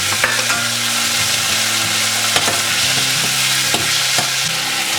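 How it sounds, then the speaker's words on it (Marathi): Two chopped tomatoes go into fried onion in a hot pan, giving a loud, steady sizzle close up. Scraping stirs and light clinks of a utensil against the pan run throughout, with no voices. "आपला कांदा भाजून झालेला आहे। त्याच्यात मी आता हे 2 चिरलेले टोमॅटो टाकते।"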